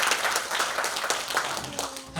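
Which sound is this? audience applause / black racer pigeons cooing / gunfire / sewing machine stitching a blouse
audience applause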